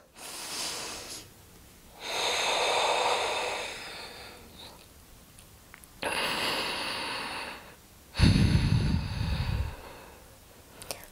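Deep breathing during a stretching exercise: slow, loud breaths in and out alternate with quiet pauses, ending in one heavier, rougher exhale, with no talking.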